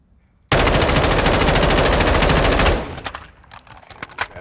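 Automatic gunfire rips at a firing range in Modern Warfare II, one long loud continuous burst of rapid shots that cuts off and leaves a few scattered clicks and faint tails.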